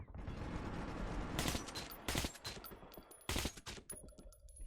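Gunfire in the first-person shooter Metro 2033 Redux: several loud, sharp bursts of shots ring out close by over a rumbling background, with short gaps between volleys.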